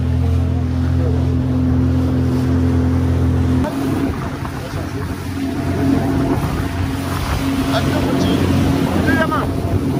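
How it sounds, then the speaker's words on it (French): Regular motorboat on open water off Miami, its engine a loud steady drone with constant churning spray and rushing water, the motor tone dropping and roughening after a few seconds as the hull slaps through waves. "nous ne sommes pas un jet ski, nous sommes un bateau régulier"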